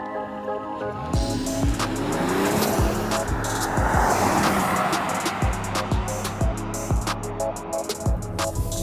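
Steady engine and road noise inside a 2022 Mercedes-Benz GLE 450 Coupe on the move, with a rising and settling engine tone and periodic thumps over the road, heard from the cabin without talk.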